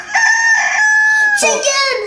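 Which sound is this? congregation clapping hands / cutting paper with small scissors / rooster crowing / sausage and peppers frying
rooster crowing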